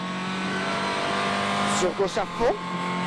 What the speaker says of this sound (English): the championship leader blasts his 300 brake horsepower machine into the Bulgarian countryside